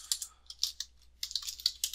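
Mouse clicks and keyboard presses at a computer running Houdini and Unity: sparse, light, close-up clicks in short irregular bursts with quiet gaps, no talking.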